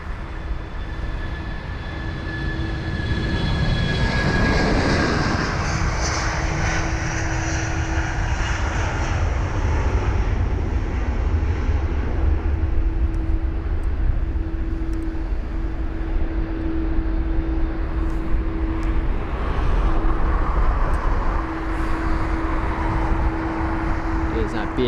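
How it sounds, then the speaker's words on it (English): British Airways Airbus A319 taking off from London Heathrow, bound for Milan, a steady loud jet engine roar that holds for the whole stretch, with a distant rumble underneath and a voice talking over it. "Off we go as this A319 to Milan, flight number BA584."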